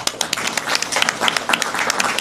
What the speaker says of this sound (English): let's give a quick round of applause to my mom, medical professionals, caregivers, and families that support the rare disease community